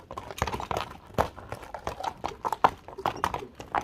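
A horse's hooves clip-clop in a quick, irregular run of sharp knocks on hard ground, close by, with no other sound standing out.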